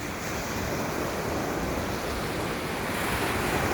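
Steady roar of ocean waves breaking on the beach at Hua Hin, a continuous loud wash of surf with wind buffeting the microphone, no voices.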